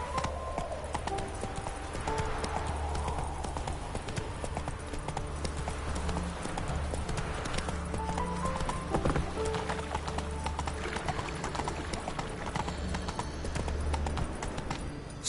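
Roach the horse from The Witcher 3 gallops with a rapid, continuous drumming of hooves over a low ambient drone, with a brief whinny partway through.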